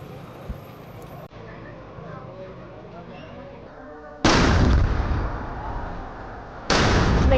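Booming ceremonial artillery salute rounds at a Dien Bien Phu victory anniversary in Vietnam: two loud, distant-sounding blasts roll out a couple of seconds apart over quieter crowd murmur and outdoor ambience.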